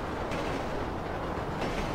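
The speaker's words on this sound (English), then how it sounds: "Just wait for the train to pass." A train rumbles past by the tracks in GTA V, a dense, even, loud roar that holds throughout without breaks.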